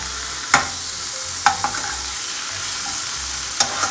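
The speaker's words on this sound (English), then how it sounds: "You can see the baby corn is roasting." Baby corn roasts with masala in a hot pan, giving a soft continuous sizzle broken by a few sharp scraping clicks as it is stirred, close up with no voices.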